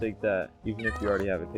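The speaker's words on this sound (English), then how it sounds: "That's my cat." Cat mewing in the Minecraft video game, several short rising and falling meows in quick succession, close and clear, heard alongside a person talking.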